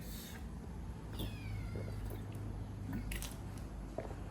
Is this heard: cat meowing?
yes